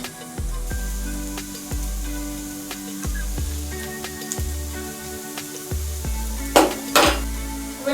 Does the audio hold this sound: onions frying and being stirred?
yes